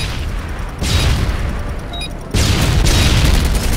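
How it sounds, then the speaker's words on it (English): Two stun grenades going off in a multiplayer shooter match, each a sudden loud bang followed by a sustained roaring rush, the second louder than the first. "Throwing a stun grenade!"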